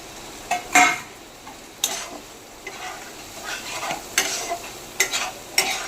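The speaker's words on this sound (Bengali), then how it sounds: "মাশরুমটাকে আমি ভালো করে মশলার সাথে মাখিয়ে নিচ্ছি" Mushrooms are stirred with spices in a frying pan, a spoon scraping and tapping the pan in irregular strokes over a soft, continuous sizzle, close and moderately loud.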